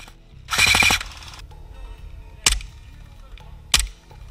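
A burst of rapid airsoft gunfire pops, then two sharp single shots a second or so apart, fairly close, with quiet background between.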